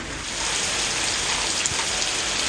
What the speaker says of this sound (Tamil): ஆவுடையார் கோவில் சுற்றுவட்டார பகுதிகளில் பலத்த காற்றுடன் கனமழை கொட்டியது.